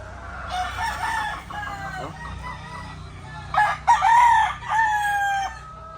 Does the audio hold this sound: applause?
no